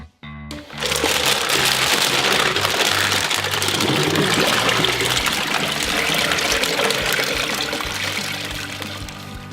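Turkey brine gushes and pours out of a cut brining bag down a drain, a loud, sustained watery rush that starts abruptly and runs continuously before tapering slightly.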